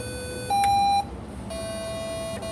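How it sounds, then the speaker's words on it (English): Two clean electronic beeps, the first higher and shorter, the second a longer lower tone, sounding alone against quiet hiss. "you'll know that because there's 2 beeps"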